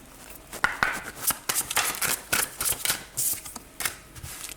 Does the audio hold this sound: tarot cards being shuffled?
yes